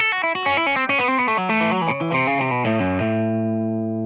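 A quick run of distorted electric guitar notes from a blues scale climbs and bends in a country lead lick, ending on a long ringing sustained note, loud and close.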